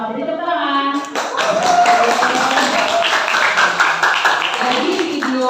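Classroom applause for a student group's presentation: a burst of clapping from a roomful of people fills the space after a short spoken phrase, with voices mingling underneath the steady clatter.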